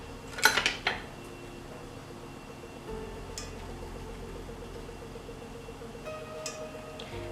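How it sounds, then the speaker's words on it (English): Dry cake ingredients, including baking soda and salt, are mixed in a bowl: a burst of clinking utensil strikes at first, then quieter scraping and occasional taps. "Mix it all up."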